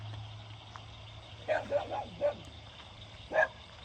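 Dogs out on a rural homestead give a few distant barks and yips in a short cluster, followed by one more bark after a pause, all faint over a low steady hum.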